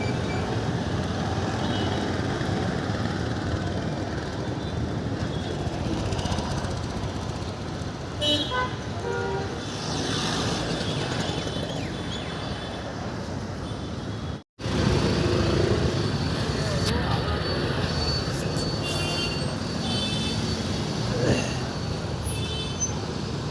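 Continuous busy road traffic with engines rumbling close by and a few short car horn toots, a brief dropout near the middle, and faint voices in the background.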